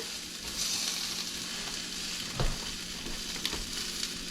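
Onions fry in a pan with a steady, close sizzle. A couple of brief clinks or stirring knocks sound over the continuous hiss.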